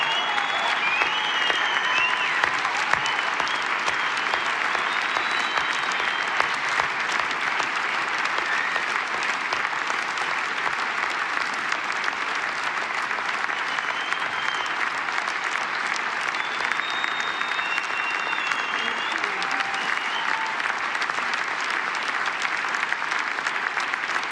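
A large audience at the German Sustainability Award ceremony applauds Jane Goodall, a loud, sustained roar of clapping hands that holds steady for the whole stretch, with occasional faint cheers and voices in the crowd.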